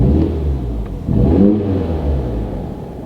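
A 2020 Mini Cooper S engine runs loud and close at a steady idle, swelling briefly around the middle, heard alone without talk.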